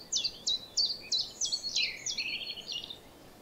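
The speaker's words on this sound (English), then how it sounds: "appreciate and hear all the wonderful sounds of the birds chirping" A bird sings a series of bright, repeated chirping notes in a steady rhythm, clear against a quiet outdoor hush in a spruce forest.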